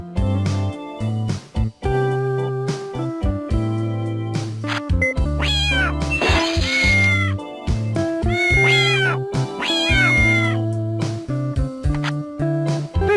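Cartoon cats meow repeatedly in the puzzle video game Return of The Incredible Machine: Contraptions, several bright, rising meows over steady looping game music and sound effects.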